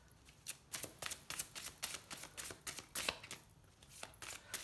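Tarot cards are shuffled by hand before a single card is drawn, giving a soft, continuous riffle of papery flicks and taps in quick rhythm, close but fairly quiet.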